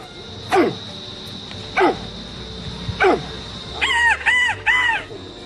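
A man imitates bird calls with his voice: several short, sharp call-like bursts spaced about a second apart, then a quick run of warbling, chirping notes, all close and fairly loud.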